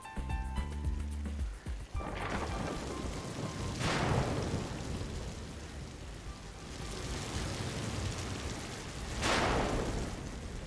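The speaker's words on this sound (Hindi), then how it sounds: "लगता है आज ये बारिश बंद नहीं होने वाली है।" Heavy rain pours steadily, a dense close wash of hiss with a couple of deeper rolling whooshes swelling through it; no one speaks.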